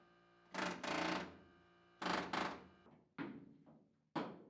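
Several loud bursts of rapid pneumatic air hammer hammering, each lasting under a second, separated by short pauses, close and harsh with a ringing metallic tone, working on a Chevy C10 truck bedside.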